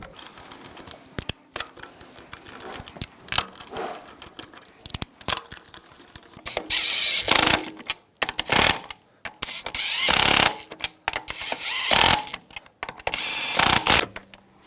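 Lug bolts being threaded in and snugged down on a 2000-2006 BMW X5 wheel, a series of irregular metallic clicks, ratcheting and clattering bursts, close by, with louder busier stretches toward the end.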